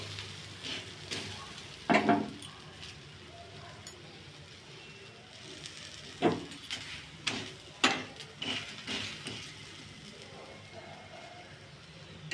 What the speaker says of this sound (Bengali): এবার আমি আর একটা দিয়ে দিচ্ছি, আর একটা ভেজে নেব।